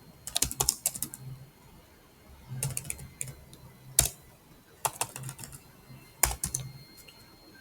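Bursts of computer keyboard typing while entering Java code, clusters of quick close keystrokes separated by short pauses, no voice.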